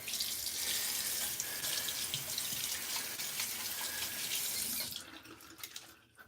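Tap water runs steadily into a sink to wet a head before a head shave, a loud, close, continuous rush that cuts off near the end, followed by a few faint drips.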